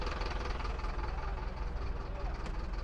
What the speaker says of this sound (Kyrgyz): Бул гигантты көрөлүчү. Мерс. Паре 815. 2001-жылы чыгарылган. Плита мотор дейт.